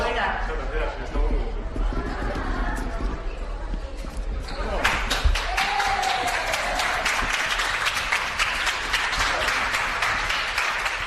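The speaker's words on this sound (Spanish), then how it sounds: "Pasillo de honor para Sánchez en Moncloa, con los suyos aplaudiendo a rabiar" Ministers at Moncloa give Pedro Sánchez a guard of honour, breaking into loud sustained applause partway through after a stretch of murmuring, with chatter continuing beneath the clapping.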